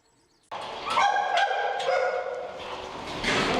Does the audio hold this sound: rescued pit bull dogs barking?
yes